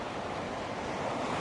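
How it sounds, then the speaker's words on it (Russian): Sea waves wash on a shore of clear emerald water, a brief, faint surf rush mixed with wind noise on the microphone. "смотрите, какое море, да, вот волна чистенькая"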